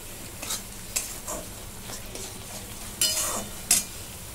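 A spiced curd mixture being sautéed and stirred in a pan for a shev bhaji curry, with soft sizzling and intermittent scraping stirs, the louder spoon strokes coming near the end.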